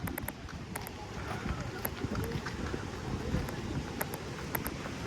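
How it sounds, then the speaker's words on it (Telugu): Water runs from a pond into a small channel during the monsoon, a steady close rushing wash with a few faint clicks above it. "ఆ చెరువు నుంచి చిన్న కాలువలోకి వాటర్ వెళ్తున్నాయి."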